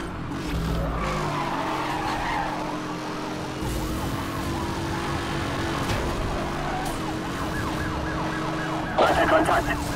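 A police car siren wails through a high-speed chase in the racing game Need for Speed Hot Pursuit Remastered, layered over steady engine roar and tire skids, with a loud crash burst near the end.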